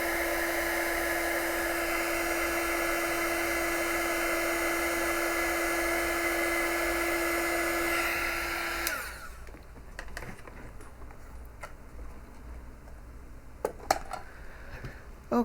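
A small, inexpensive heat gun blows with a steady, loud fan hum for about eight seconds while shrinking heat shrink tubing on a quadcopter build, then switches off, leaving quiet with a few faint clicks and taps.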